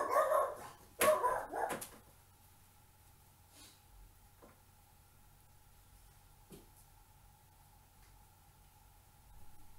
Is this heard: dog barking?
yes